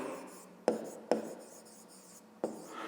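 A pen writes out a perimeter formula solution for a fifth-grade geometry problem, with soft scratching strokes and three crisp taps, close and quiet with no speech.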